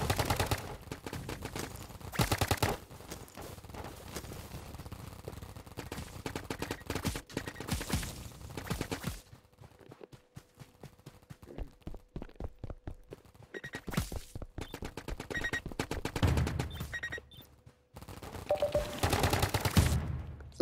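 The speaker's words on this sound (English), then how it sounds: "Is that a rifle? Alright, yeah, I gotta use that." Rifle gunfire in a Roblox game: rapid bursts of shots in loud clusters, pausing for a quieter stretch of scattered single reports before heavy volleys return near the end.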